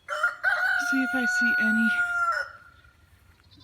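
Farm rooster crowing once in a long, drawn-out call, close and clear, with a few clucks and a brief spoken remark over the start.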